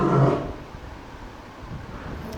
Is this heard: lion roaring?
yes